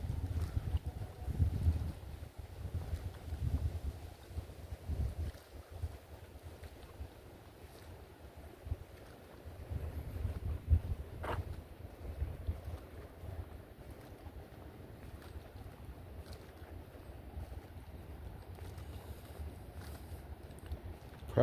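Wind buffeting a microphone outdoors in a Florida park, a steady low rumble with gusty swells that holds for the whole stretch, loud and close with no voices.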